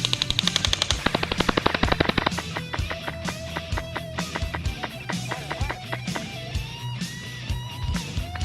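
Airsoft gun firing on full auto during an end-of-year airsoft game, with rapid bursts of close, loud shots that settle into a steadier stream of repeated pops.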